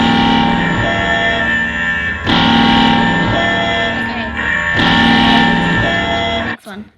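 A loud, harsh emergency alert system alarm tone blares steadily, its dense buzzing drone pulsing in long sections with brief dips, then cuts off abruptly near the end; voices are heard under it.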